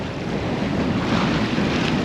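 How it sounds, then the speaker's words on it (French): Sailboat under sail in a northeast wind, with a constant loud rush of wind over the microphone and waves washing against the hull, steady throughout and without talk. "on a le vent du nord-est et on y va tranquillou à la voile dans d'excellentes conditions"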